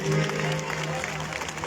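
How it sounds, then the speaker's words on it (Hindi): Church congregation applauding at a live worship service, steady dense clapping throughout with crowd noise and a sustained musical tone underneath. "आइए तालियां बजाइएगा उसके जलाल के लिए।"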